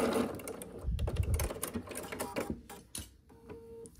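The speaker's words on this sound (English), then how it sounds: "Okay, and then we're just gonna sew this." Sewing machine stitching quilt squares for flying geese blocks, a steady close mechanical whirr of rapid needle strokes that slows near the end, with no talking.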